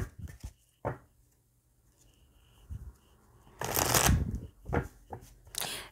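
Oracle cards being shuffled by hand, in a few quick riffling bursts close by, the longest near the end, separated by quiet pauses without talk.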